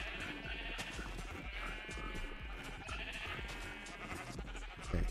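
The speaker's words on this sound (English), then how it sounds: "Okay, these sheep are loud." Video-game sheep bleat loudly and repeatedly in a busy rural soundscape, the calls overlapping and continuous against a steady background.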